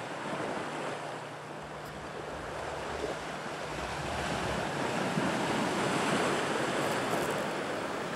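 Surf rolls in and wind buffets the microphone on an Alaskan beach, a broad continuous wash of waves that swells slightly louder toward the end, with no voices.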